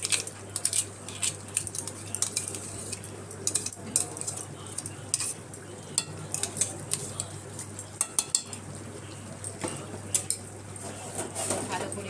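Chicken and potato curry with sour yogurt is stirred in a pan, the utensil clinking and scraping in irregular taps over a soft simmer and a low steady hum.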